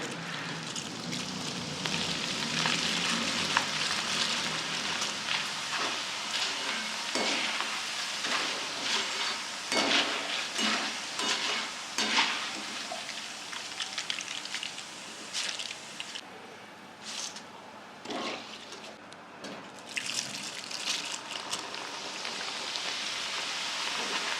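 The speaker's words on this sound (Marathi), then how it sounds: "चिवडा तळताना तेलात अगदी थोडे थोडे पोहे घालायचे।" Flattened rice poha being deep-fried in hot oil for chivda, a crackling bubbling sizzle with bursts of sharp popping and rustling, loud at first then thinning into scattered louder pops, with no voices.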